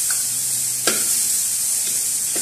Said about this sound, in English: Let's saute our garlic. Just a little oil